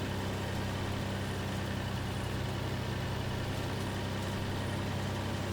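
Tractor engine in Farming Simulator 19 pulling a tedder attachment, a steady low idling drone with even mid-range rumble that holds constant and unstrained throughout.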